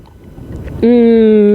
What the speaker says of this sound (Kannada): ಎಕ್ಸಾಸ್ಟ್ ಮಸ್ತ್ ಕೇಳ್ತೈತಿ ಆವಾಜ್